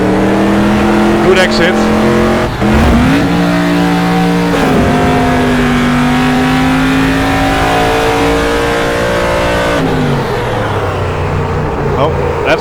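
A race truck's engine in the Automobilista SuperTruck racing game revs loudly under feathered, partial throttle, its pitch climbing and dropping in uneven surges while someone talks over it.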